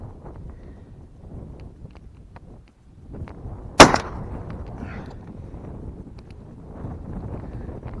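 A TOZ-BM 16 gauge shotgun fires a BPS 28-gram number 10 shot cartridge outdoors: a single sharp, loud report midway, surrounded by low wind rumble on the microphone.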